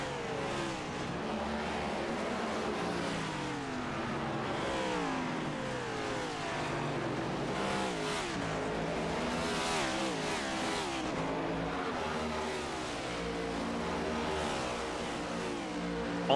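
Race cars lapping Watkins Glen in an HTL Cup Series race, engines revving and rising and falling in pitch as several cars pass close by, continuous loud motor roar throughout.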